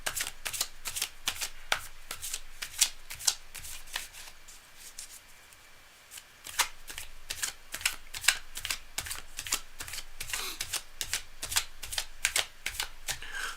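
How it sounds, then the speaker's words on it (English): Tarot cards being shuffled by hand, a long run of rapid crisp riffling snaps in uneven bursts, close and fairly quiet with no voices. "the cards are well shuffled in advance, but I want to go a little bit more to the last second"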